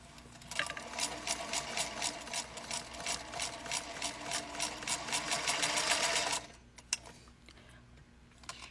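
A sewing machine stitches in a fast, even run of close mechanical ticks for about six seconds, then stops, leaving quiet room tone with a single faint click.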